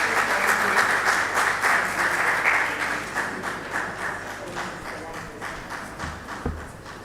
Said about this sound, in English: A round of applause for them as they prepare to take their seats